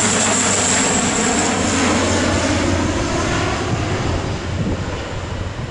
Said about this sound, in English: That plane that just flew over wouldn't have been possible without the Wright brothers.